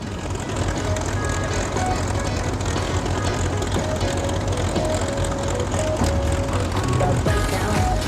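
Propeller aerobatic planes of the Moroccan aerobatic team perform at an air show in strong gusty wind, their engines a steady, loud, continuous drone that holds throughout with no talk.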